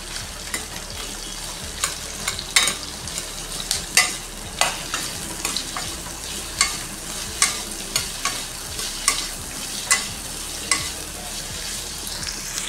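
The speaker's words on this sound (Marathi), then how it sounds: "कांदा परतून घेऊ आपण." Onion sautéing in a hot pan for matar paneer masala, with a spoon stirring in steady, close scraping strokes over a continuous soft sizzle.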